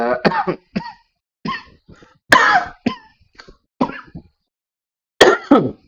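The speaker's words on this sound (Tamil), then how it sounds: "என்னோட இருமல் சத்தத்தெல்லாம் நீங்கள் கேட்டிருப்பீங்க" Repeated harsh coughing fits, close and loud, in short bursts separated by brief pauses, with a couple of stronger hacking coughs standing out.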